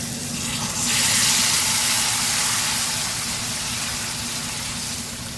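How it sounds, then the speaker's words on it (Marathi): Hot water is poured into a sizzling cashew curry, a loud gushing hiss rising after the first second over the steady frying, then easing slightly as it continues. "गरम पाणी टाकून घेऊया।"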